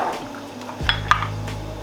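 An egg cracks sharply against a pan rim while making eggs benedict, one or two brief clicks followed by a faint sizzle and rattle of cookware, close by with no talk.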